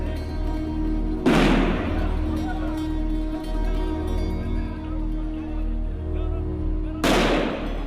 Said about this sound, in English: Israeli soldiers have kept the young Palestinians at bay with sound grenades